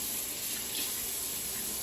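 Warm water runs steadily from a tap into a sink, a constant close hiss of flowing water with no break.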